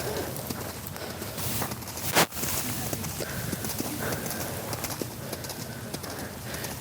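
Horse cantering during a riding lesson on a farm, with steady rhythmic hoofbeats on soft footing, a sharp bump partway through, and birds and faint voices in the background.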